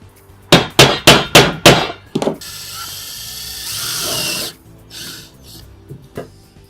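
Five sharp, evenly spaced knocks, then a drill whirs loudly for about two seconds, drilling a mounting hole for curved track, before quieter clatter and handling noises.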